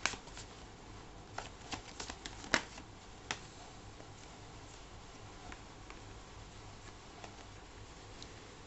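Tarot cards being shuffled by hand, a close, crisp riffle of flicking card edges with a few sharper snaps early on, then fainter continued shuffling, heard alone.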